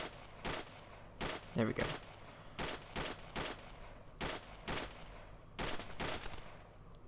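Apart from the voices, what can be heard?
gunfire from snipers returning fire in Wasteland video game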